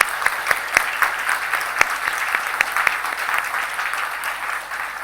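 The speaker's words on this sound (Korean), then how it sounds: "감사와 격려의 박수를 같이 한번 보냈으면 좋겠습니다" A congregation at a Sunday church service claps steadily, a dense wash of applause with a few louder claps standing out nearby.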